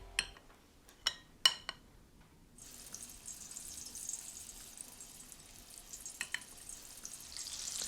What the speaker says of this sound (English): There's something downright decadent about frying in lard